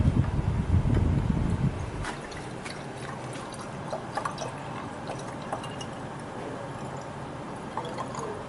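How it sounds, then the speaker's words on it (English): Water is poured into a glass BOD bottle in a lab, filling it up to the neck. A rushing pour for about two seconds gives way to softer trickles and drips, and no one speaks. "Fill the BOD bottle up to neck."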